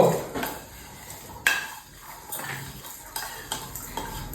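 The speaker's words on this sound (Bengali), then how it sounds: "তোদের মুড়ি মাখা দেখে তো খেতে ইচ্ছে করছে রে" A spoon stirs puffed rice for jhalmuri in a bowl, making close, irregular scraping, rustling and clinking strikes against the dish, with a few sharper knocks.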